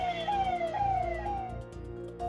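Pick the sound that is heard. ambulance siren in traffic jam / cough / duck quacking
ambulance siren in traffic jam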